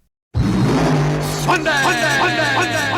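A rear-engine dragster roars in close and loud at a drag strip, revving up with rising, rhythmic pulses of its exhaust note.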